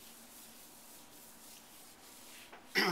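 A gloved hand rubs sealer into a granite surface with a soft, steady, close rubbing hiss, ending in a sudden louder scrape, with no talking.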